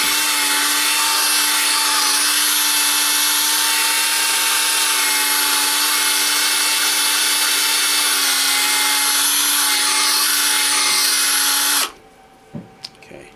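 A power tool fitted for polishing whirs steadily for about twelve seconds as compound is worked onto a Wico arcade joystick part, then cuts off abruptly, leaving a few light clicks and handling noises.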